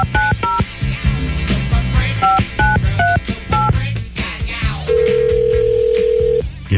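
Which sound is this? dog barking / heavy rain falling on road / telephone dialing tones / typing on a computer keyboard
telephone dialing tones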